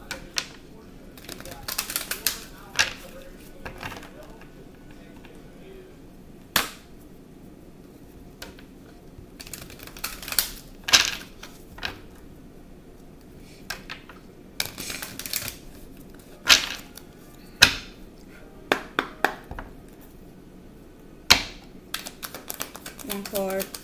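Oracle cards are shuffled and handled during a spiritual card reading, giving scattered sharp flicks and snaps across the stretch while someone talks over them.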